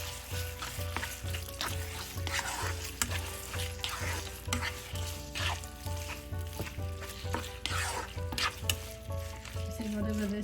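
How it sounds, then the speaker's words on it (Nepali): Ground chicken curry fries in a pan while being stirred, a continuous sizzle broken by regular scraping strokes of the spoon, close and moderately loud with no talking. "अब यसलाई राम्ररी चलाउँदै ढिक्कै पकाउनुपर्छ।"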